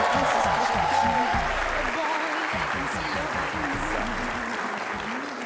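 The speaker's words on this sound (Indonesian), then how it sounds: "Cantik sekali, tepuk tangan sekali lagi dong." A television studio audience applauds a guest, a steady patter of clapping running throughout beneath someone speaking.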